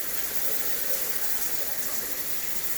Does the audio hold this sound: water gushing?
yes